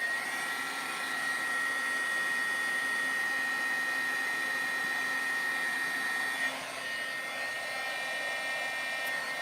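A handheld scrapbooking heat tool warms up, giving off a steady blowing hiss with a high electric whine. It runs continuously at moderate volume, with only a slight shift partway through.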